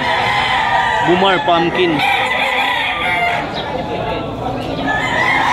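Banded gamecock stag crowing, with a clear multi-note crow near the middle and ongoing background noise, as someone talks over it.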